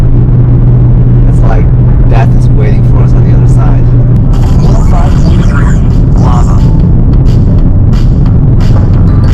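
A car drives up a mountain road toward Mauna Kea into fog, its steady engine and road rumble running throughout, loud and close, with people talking over it.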